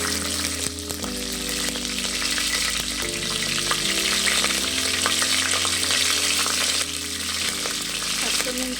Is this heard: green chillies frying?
yes